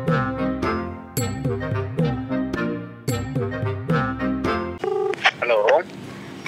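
A mobile phone call being placed: a repeating melodic ringback tone plays in three even cycles, then cuts to a brief burst of noise and a short voice on the line.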